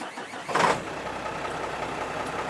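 A truck engine cranks and catches in a short burst on a warm desert night by a highway, then settles into a steady low rumble that carries on alone as a story sound effect.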